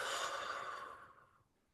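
One long, smooth exhale through the mouth as the body folds forward in a slow stretch, close and soft, fading gradually to silence.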